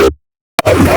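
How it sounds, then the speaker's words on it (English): A synthesized neurobass patch made in Serum from a speech sample gives a short, gritty, growling bass burst, then a brief silence, a sharp click and another harsh, vowel-like bass phrase. "So altogether those basses sound like this."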